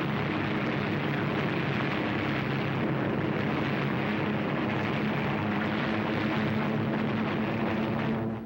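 A propeller-driven fighter plane in a near-vertical dive roars with a loud, continuous engine drone and rushing air that stays steady and intense for over eight seconds, alone without speech.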